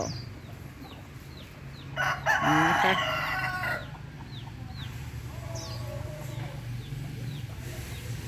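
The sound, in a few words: chickens clucking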